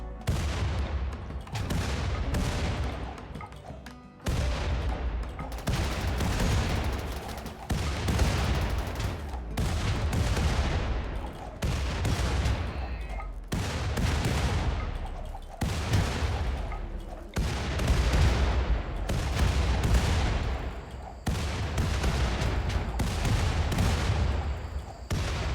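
Repeated heavy grenade blasts pound a centipede mech in the video game RimWorld, a rapid series of loud booming explosions with rumbling tails, one after another for the whole stretch, with no talk.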